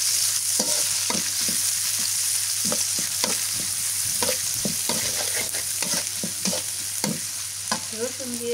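Chopped onion fries in oil with a constant close sizzle, punctuated by repeated scraping and knocking strokes of a spatula stirring in the pan, no voices.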